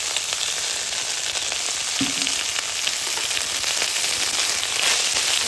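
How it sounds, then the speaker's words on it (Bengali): Dried chili and bay leaf frying in hot mustard oil in a wok, giving a steady, dense sizzle that crackles throughout with no voices. "কড়াইতে আমি সরিষার তেল দিয়ে দেব, দিয়েছি শুকনো লঙ্কা, তেজপাতা আর সস।"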